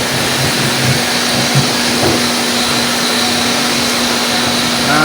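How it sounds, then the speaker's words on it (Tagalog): Heavy typhoon downpour with driving wind makes a loud, steady broadband roar that holds without letup from start to finish, with no voices. "Oh, grabe, buhos na ang bagyo."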